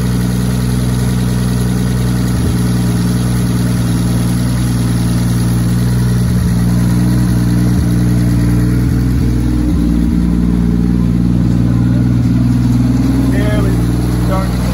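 Engine of a 1940 Mercedes barn-find car cranking and trying to catch, a steady low mechanical drone with faint irregular stumbles, heard alongside people talking throughout.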